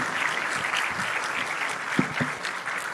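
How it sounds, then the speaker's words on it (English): Audience applause for presenters at an actuarial conference session, a steady wash of many hands clapping at moderate distance, with a couple of sharper nearby claps standing out partway through. "A round of applause for these guys."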